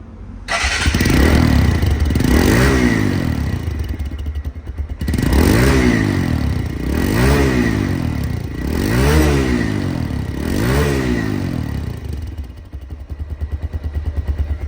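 A 2023 TVS Stryker 125cc motorcycle engine runs loud and close, revving up in five or six repeated surges over a steady idle, then settling back to idle.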